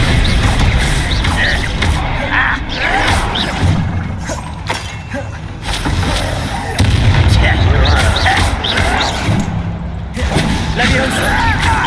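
Repeated Bombarda blasting spells in Hogwarts Legacy, with loud explosive bursts and crashes arriving in rapid succession amid dense combat clatter, continuous and close.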